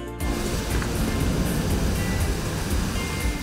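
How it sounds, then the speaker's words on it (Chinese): A babbling mountain stream in the forested hills of New Taipei gives a continuous, even rush of flowing water, close and moderately loud, with no voices over it. "潺潺溪水声越来越清楚"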